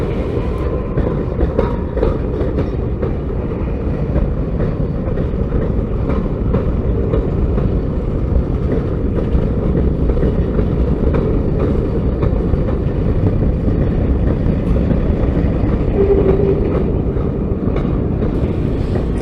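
CSX freight train on the ANB line rumbling steadily past close by, a long continuous roar of wagons loaded with iron, steel I-beams, H-beams and lumber, with faint clanking over the rails throughout.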